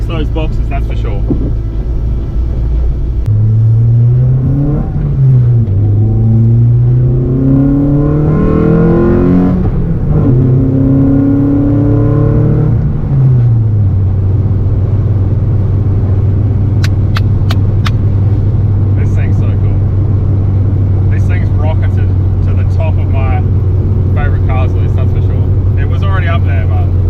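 An SR20-converted Datsun 200B SSS accelerates through the gears, its engine note climbing and dropping with induction roar, then settling into a steady cruising drone while someone talks throughout the drive.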